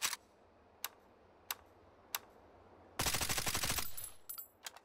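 A gun fires a full-auto burst in H3VR, a tight loud rattle lasting about a second, preceded by several single sharp clicks and followed by a few more isolated taps.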